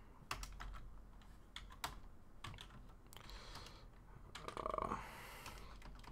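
Computer keyboard typing while writing Django Rest Framework code in a Python notebook: quiet, irregular clusters of close key clicks and taps, with no talking.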